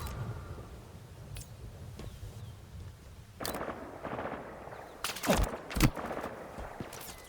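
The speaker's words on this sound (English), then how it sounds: "Who's shooting at me?" Gunfire in Halo Infinite arrives in scattered bursts over low rumbling ambience, starting faint and distant, then a few loud, sharp close reports stand out toward the end.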